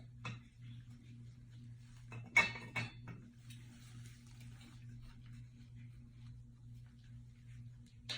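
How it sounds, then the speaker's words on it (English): A plastic lid comes off an E. coli culture container on a lab bench, giving a couple of brief, light clicks against a steady low equipment hum. "So first thing I'm going to do is take the lid off of the E. coli."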